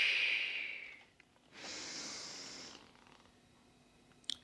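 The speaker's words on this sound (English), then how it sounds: "Use that breath, big breath in, and then a release." A person doing a Pilates bar workout draws a long deep breath and then lets it out in an audible exhale, quiet and close, with a soft click at the end.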